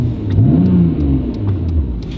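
A Nissan Skyline R34 GT-R engine revs up sharply with light throttle taps, the pitch climbing and falling in a quick rev before settling back near idle.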